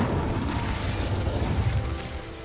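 A loud, sustained fiery roar with booming bursts comes from the Incendio fire spell in Hogwarts Legacy, holding steady up close before easing off slightly at the end.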